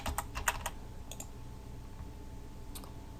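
A computer keyboard clicks softly as a password is typed in a short burst of quick keystrokes, then a pause and a couple of stray taps, faint in a quiet room.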